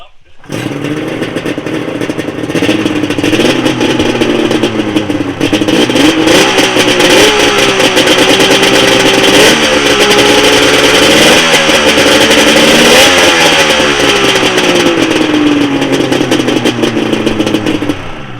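A Polaris 750 Storm or XCR snowmobile with triple pipes runs loud and close, a harsh two-stroke roar that rises and falls with repeated revs over about eighteen seconds.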